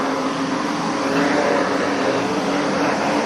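Street stock race cars lapping the Carina Speedway track in a final, a steady droning engine roar held at an even level throughout, with no voices.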